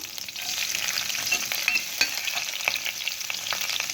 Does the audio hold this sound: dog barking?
no